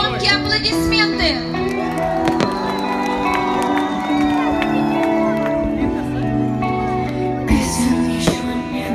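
Crowd cheering and applauding at a Victory Day fireworks show in Sochi, a steady wash of voices, claps and whoops over a music track throughout, with a louder burst of cheering near the end.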